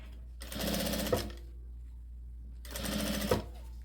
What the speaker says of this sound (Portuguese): Coloco aqui debaixo da máquina e começo a costura.